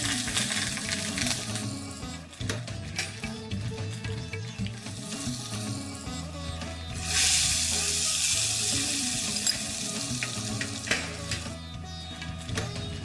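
Cumin seeds tempered in hot oil for a dal or vegetable dish, a steady close sizzle and crackle that suddenly flares louder partway through, with faint clinks of a pan.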